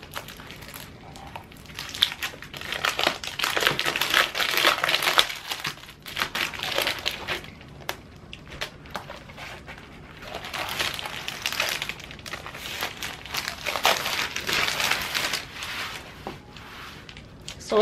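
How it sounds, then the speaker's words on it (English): A plastic protective sheet peeled off a rotary cutting mat, with repeated crinkling and crackling bursts in uneven waves, close and fairly quiet. "And this also inside of a plastic protective sheet that can be peeled open as well."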